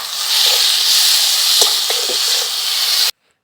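Tomato and ginger fry in a pan, making a loud, steady sizzle with a few soft scrapes of stirring, close up, before stopping abruptly.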